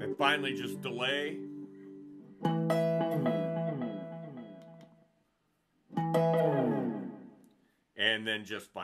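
Electric guitar phrases through a Vox DA5 modeling amp's delay effect come in separate bursts, each note trailing off into repeating echoes before short pauses.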